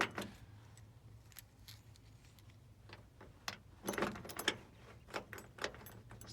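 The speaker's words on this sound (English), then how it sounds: "It's also got a set of GM keys." A set of GM car keys jangles faintly up close in a quiet space, scattered metallic clinks building into a denser rattle midway, over low steady background hum.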